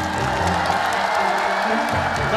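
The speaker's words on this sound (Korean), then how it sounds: "모두가 행복한 나라가 되라고 다 같이 박수 보내주세요" A studio audience at a children's TV puppet show applauds steadily, the clapping blended with cheering and background voices and sustained for the whole short stretch.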